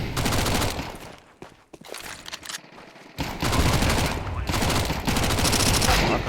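Dense, loud SMG gunfire from a Counter-Strike match on Dust 2, sustained rapid bursts with a brief lull before the shooting resumes heavily.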